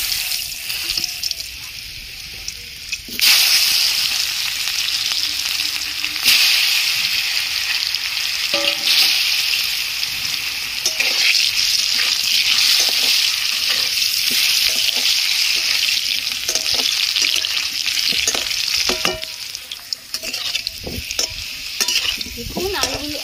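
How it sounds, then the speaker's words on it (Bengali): Potato pieces seasoned with salt and turmeric fry in hot oil for a home-cooked chicken biryani, a steady close sizzle with occasional stirring clatter and a few scraping knocks. "এবার আলুগুলো আমি ভেজে নেব।"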